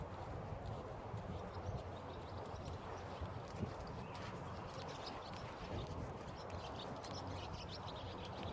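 Horse hooves moving around during a first saddling session, soft irregular clopping and shuffling on the ground, faint and continuous with birds chirping in the background.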